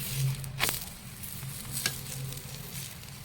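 A stuffed paneer paratha sizzling and crackling softly on a hot pan as it roasts until crisp, a quiet steady hiss with a couple of brief pops.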